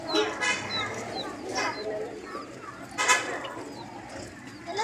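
Pigeons coo and flutter close by in a steady chorus, with overlapping soft calls and occasional louder bursts of wing noise.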